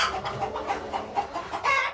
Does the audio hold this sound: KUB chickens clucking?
yes